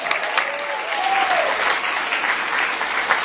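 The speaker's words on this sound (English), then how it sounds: "Give him an applause." A class applauds a student with steady, moderately loud clapping that lasts throughout, joined briefly by a thin whistle-like tone near the start.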